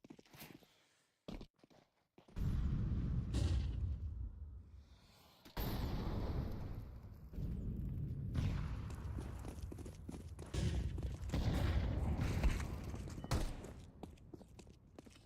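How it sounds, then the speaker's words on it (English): Grenade and flashbang blasts mix with gunfire in a Counter-Strike-style match between ENCE and FUT, with heavy booming bursts and rattling shots in quick succession and no talking. "Great timing on the nade and flashbang there."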